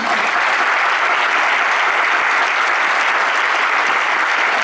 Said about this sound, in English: So everybody stand by, wait for the applause.